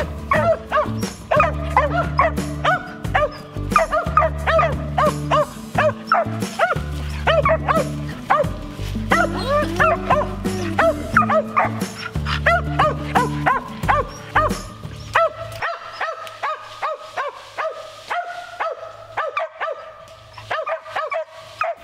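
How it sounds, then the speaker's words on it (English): Two hunting dogs bark and bay at a treed squirrel in Tennessee, repeatedly in a fast, overlapping chorus, loud and close, continuing without pause. "It's pretty cool to see two dogs treeing at the same time."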